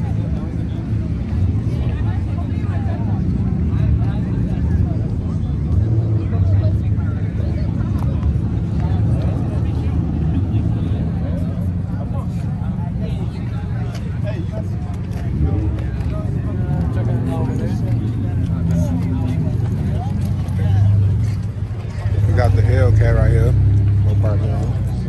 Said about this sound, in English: We got Scott's pulling up, man. SRT Challenger right here.